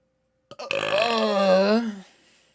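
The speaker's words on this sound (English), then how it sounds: "That was a water burp." A loud, drawn-out burp after drinking water, rising sharply and holding for about a second and a half before tapering off, heard alone with no talking.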